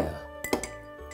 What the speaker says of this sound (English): I'm gonna add just a drop of hot water just to mix it up.